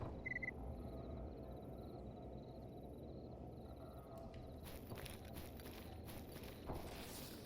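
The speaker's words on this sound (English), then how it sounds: "Yeah, there's footsteps." Footsteps in a video game tread quietly and steadily over a dense ambient background, faint and at moderate distance, with no talking.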